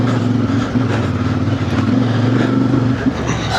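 A CF Moto IBEX 450 motorcycle ridden off road on dirt at low RPM, a steady loud engine drone held throughout the short clip with no talking.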